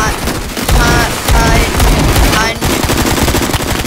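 Loud sustained automatic gunfire in a shooter game against bugs, dense rattling bursts with a short pause midway, with excited voices faintly mixed in.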